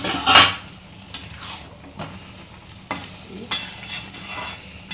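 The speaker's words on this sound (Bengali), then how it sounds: "এবার দেখি একটু ঢাকনাটা খুলি।" A metal lid lifts off a pot, and a utensil scrapes and clinks through a simmering curry of potato, spinach and eggplant, giving a few sharp knocks over a faint sizzle.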